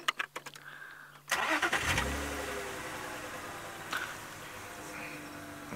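A car engine cranks and catches after a few ticks and clicks, then settles into a steady, close idle that runs on with small bumps, during a wildlife drive watching a bateleur.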